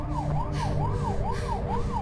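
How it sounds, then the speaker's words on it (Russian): A police car siren in a video game wails in a steady, rapid rising-and-falling pattern, loud and close, repeating several times over a low rumbling background. "Полицейская машина."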